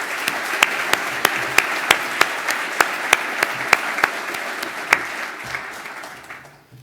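Audience applause at an entertainment gathering honoring board officers, a full round of clapping with a few sharp individual claps standing out, gradually tapering off toward the end.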